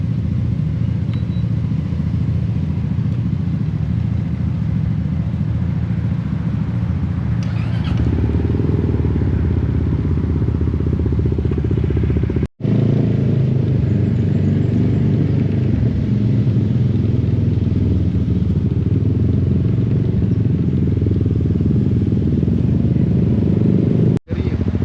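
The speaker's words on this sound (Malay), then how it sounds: "kita panas enjin dulu lah" A motorcycle engine warming up at idle before a group media ride toward Phuket Bike Week, a steady, loud, close low rumble with a slight rise in pitch partway through and a brief cut near the middle.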